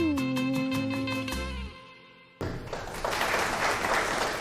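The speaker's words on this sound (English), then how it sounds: "Big round of applause." Music fades to near silence, then an audience at a singing show breaks into sudden, full applause after a song that stays loud and dense to the end.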